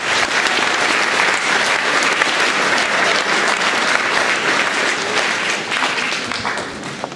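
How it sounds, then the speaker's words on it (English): An audience at a school's official grand opening evening claps in a dense, loud, continuous round of applause that carries on without talk for several seconds before easing slightly at the end. "Can we give everyone just a round of applause for all the amazing work?"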